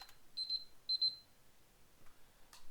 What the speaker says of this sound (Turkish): Alarmım çaldı.